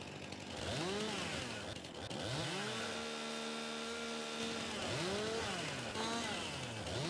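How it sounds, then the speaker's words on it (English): In Farming Simulator 22, a chainsaw revs and bogs while cutting logs, its whining engine pitch sweeping up and down in repeated arcs, loud and continuous with no voice over it. "It just depends on the angle that you get as you're doing the chainsaw."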